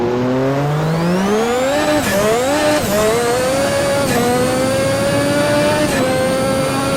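A turbocharged 1250hp formula car at Adelaide in a racing game, its engine revving loud and close, pitch climbing through gears with brief dips at each shift, sustained without pause.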